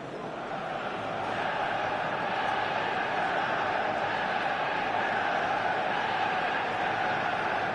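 A big stadium crowd at a football match in eFootball roars and chants in a dense, steady wash of noise that swells slightly and then holds, with no clear voices standing out.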